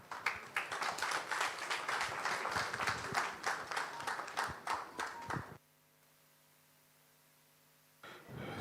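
Audience applause at a Ghana Football Association congress session, dense clapping for about five and a half seconds, then it cuts off to a low steady hum before resuming briefly at the end.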